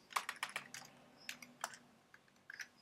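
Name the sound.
typing a command on a computer keyboard in the terminal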